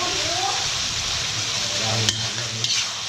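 Eel curry simmering in a pot for a spicy Isan-style dish, a steady bubbling and sizzling wash with soft stirring and a couple of brief clinks, close and continuous with a faint voice underneath.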